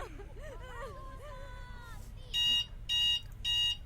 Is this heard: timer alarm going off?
yes